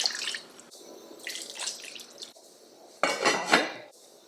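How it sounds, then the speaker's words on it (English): Water poured into a pot of potatoes in a kitchen, bursts of splashing and rushing flow alternating with brief pauses and a clink of cookware, louder toward the end. "I'm going to add some water"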